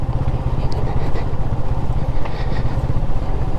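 A Honda CB250RS motorcycle engine-brakes in second gear while descending a green lane, its engine throbbing low and steady with a light clattery rumble throughout.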